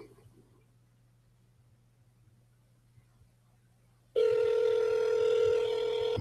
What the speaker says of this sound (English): Let's call Barrett.